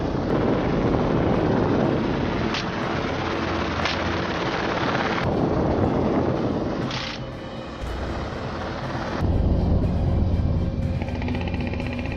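A helicopter drones steadily overhead with thudding rotor blades, the loud engine roar shifting in tone as it passes, no voices present.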